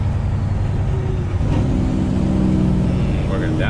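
A heavy-loaded truck on back roads downshifts, its engine rumbling loud and close with a rising rev, while a person talks over it.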